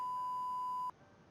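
Single voicemail beep tone, a clean steady electronic pitch lasting just under a second and then cutting off into quiet line hiss.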